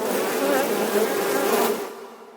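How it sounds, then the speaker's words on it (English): Killer bees buzz in a loud, dense, steady drone as a sound effect, holding for about a second and a half before fading away. "Killer bees."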